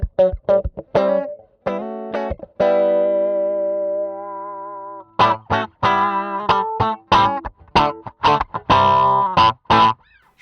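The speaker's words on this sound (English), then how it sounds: "Yeah, it does sound like a cocked wah to me." An electric guitar is played through the Archetype Cory Wong plugin with a cocked wah tone, giving choppy, funky staccato chords and a long sustained nasal note in the middle, close, bright and unaccompanied.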